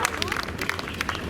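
An audience at a cycling race prize ceremony claps in a brief burst of scattered applause while an announcer talks over it.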